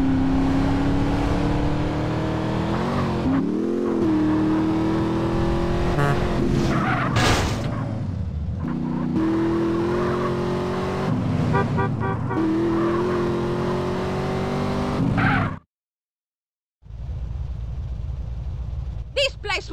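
Car driving fast in the video game GTA San Andreas, a continuous engine drone that rises and falls with revving, with skids and impacts, dialogue over it, and a brief dropout near the end.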